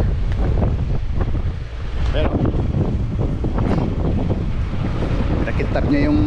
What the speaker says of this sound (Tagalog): Malakas po ang hangin oh.